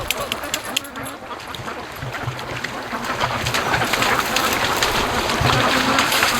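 Several ducks quack in irregular bursts near a shore, their calls overlapping above a steady background hiss that grows slightly louder toward the end.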